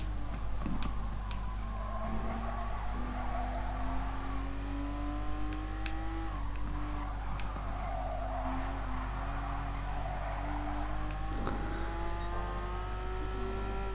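A race car engine in Gran Turismo Sport drives a lap, its steady drone rising and falling through gear changes, with occasional tire noise, close and continuous throughout.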